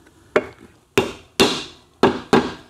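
A pinion gear is tapped home on a Tiger Cub engine with sharp metallic hammer blows, five distinct close, loud strikes, each ringing briefly before fading, evenly spaced over a few seconds.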